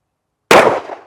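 One 10mm pistol shot fires a Buffalo Bore 220 grain Outdoorsman round: a single sharp, loud blast that cuts in from silence and dies away in a brief ringing tail.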